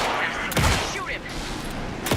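Gunfire in the video game Alan Wake 2: a couple of sharp, loud shots about a second and a half apart, with game sounds and faint voices between them.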